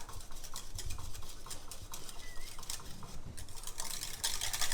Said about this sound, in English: if you ever need to save a white sauce, just use a whisk